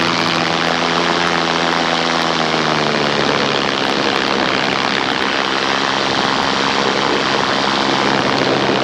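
A paramotor's engine and propeller drone loud and close in flight, a steady buzzing roar with a pitch that shifts slightly as the throttle changes, with no voices.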